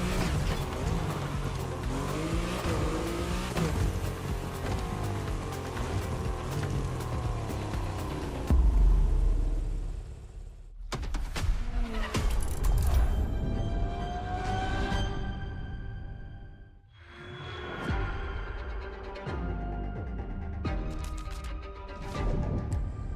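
Ferrari supercar driving in a racing game, engine roaring and revving steadily, then cutting out, with tire and wind noise and a few shifts and bursts of acceleration.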